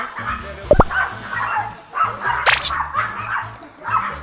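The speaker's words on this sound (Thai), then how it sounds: "หมาอยู่ในห้องค่ะ อันนี้ก็จะเป็นน้องหมาของเรานะคะ" A pet dog barking indoors in a room, a few loud close barks and yelps spread irregularly across the stretch, with a voice talking beneath them.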